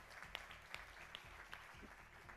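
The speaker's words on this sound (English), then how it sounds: "Let's give them a big round of applause." An audience applauds at a Houston Women's Chamber of Commerce mayoral forum, steady crowd clapping heard faintly from a distance with a few louder individual claps standing out.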